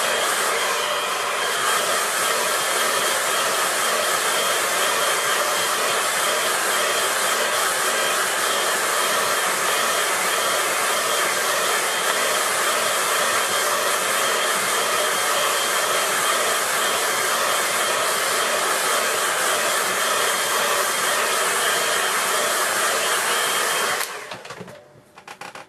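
A hair dryer blows steadily and loudly at close range for about 24 seconds to dry a watercolor painting of a Scottish harbour, then cuts off abruptly near the end.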